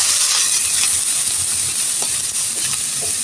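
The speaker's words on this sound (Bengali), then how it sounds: "এখন দিয়ে দিব তেল দিয়ে এখন ভালো করে আমি পেঁয়াজটি ব্রাউন করে ভেজে নেব।" Onions frying in oil in a pan, a continuous close hissing sizzle with occasional small crackles and stirring scrapes, loud and steady throughout.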